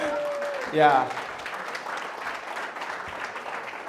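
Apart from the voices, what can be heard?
audience applause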